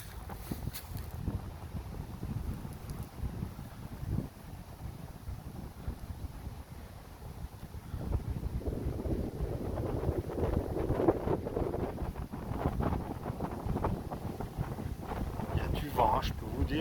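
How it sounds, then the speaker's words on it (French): Strong wind buffets the microphone outdoors at a cave, a continuous low roaring rumble that swells louder in the second half. "Il y a du vent, hein, je peux vous dire que ça rigole pas."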